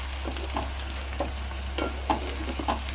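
Chilies and onions sizzle in a hot pan with a steady hiss, broken by soft, irregular stirring scrapes over a low background hum.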